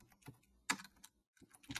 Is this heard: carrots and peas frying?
no